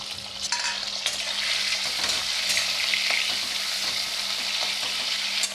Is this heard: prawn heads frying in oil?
yes